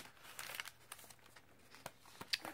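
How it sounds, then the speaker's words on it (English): Parchment paper is handled and crinkled up close for a junk journal, giving quiet, irregular crackles and rustles with a few sharper crinkles along the way. "some parchment paper."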